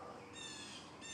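A bird cries out somewhere behind an apartment complex in the morning, a faint, distant call with a few short harmonic squawks over quiet outdoor ambience.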